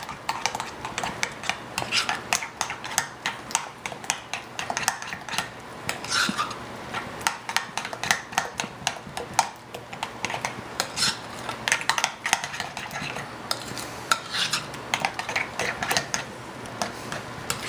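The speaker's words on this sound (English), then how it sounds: "just going to mix the tomato paste in our mixture here" A utensil scrapes and clinks steadily against a bowl as tomato paste is stirred into a thick chicken marinade, with continuous rhythmic scraping and no talking.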